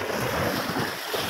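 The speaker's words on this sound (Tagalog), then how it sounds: "Kahit unti-unting hampas ng alon" River waves lap against an eroding farmland bank, a continuous wash of water and strong wind buffeting the microphone with no talk.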